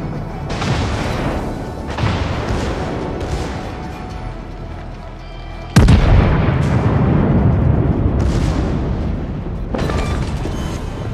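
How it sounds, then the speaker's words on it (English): An enemy cruiser blowing up during a naval battle, with dull rumbling booms that give way to a sudden sharp blast midway, followed by a sustained thundering roar and further distant thuds. "We've destroyed an enemy cruiser."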